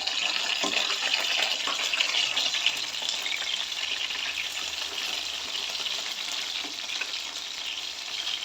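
Four fish fry in a pan, a dense, continuous hiss and crackle of hot oil heard up close, steady in level throughout with occasional small pops and no voices.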